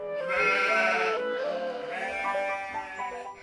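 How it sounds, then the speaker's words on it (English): Goats herded in a mountain village bleat in long, wavering, close cries, one call overlapping another with no talk. "Every morning, Peter came to the village to get the goats"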